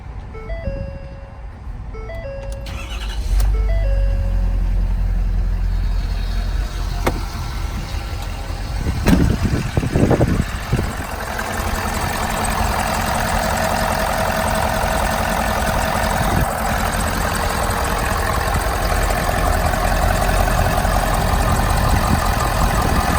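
A pickup truck fitted with a trailer brake controller and auxiliary switches cranks over and catches, then settles into a steady, loud idle that holds close by without any talk.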